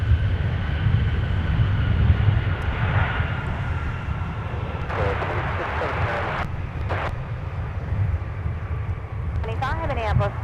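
A Sun Country airliner arriving at MSP airport gives a steady, continuous distant engine roar and rumble, with voices talking over it throughout.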